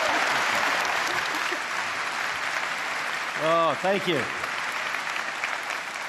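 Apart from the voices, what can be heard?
audience applause welcoming a speaker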